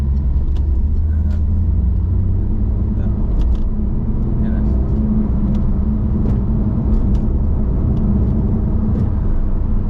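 Steady rumble of a car driving along a busy road in traffic, with the engine and tyre noise heard from inside the car, continuous and fairly loud, with faint clicks and knocks scattered over the top.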